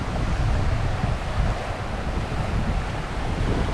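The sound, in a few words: strong wind and sea waves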